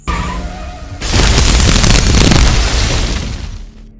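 Bombs detonate inside a building in an action film: after a quieter opening, a massive roaring blast erupts and sustains with rumbling debris and crackle before fading out.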